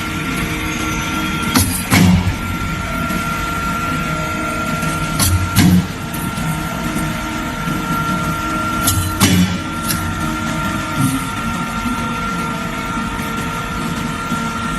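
A Kuohai KH-S101 slide stainer runs with a steady mechanical hum and whir, broken by a few brief clunks and motor surges from the moving slide rack.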